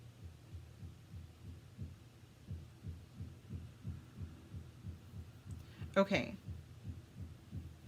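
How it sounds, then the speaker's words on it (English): Muffled pounding comes from upstairs as a steady series of low, dull thumps, faint and regular throughout, with a short spoken word and a brief clatter near the end. "upstairs someone is pounding and it's distracting me while I was shuffling"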